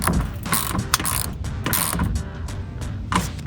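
A ratchet snugs down bolts on mud flap splash guards for a 2022-2024 Toyota Tundra, giving several quick close clicking bursts separated by brief pauses.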